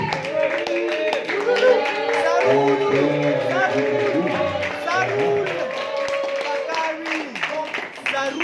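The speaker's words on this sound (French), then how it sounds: "je vous exhorte d'applaudir ces élégants débatteurs" An audience applauds elegant debaters at a French-language inter-university debating tournament in Kenya, the clapping mixed with loud cheering voices and crowd chatter throughout.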